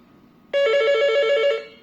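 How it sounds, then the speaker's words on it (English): An ECG-735 analog hotel phone ringer gives one loud, close electronic trill lasting about a second, then it cuts off. "It has the ringer and LED light indicator."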